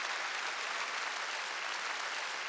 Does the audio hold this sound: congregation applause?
yes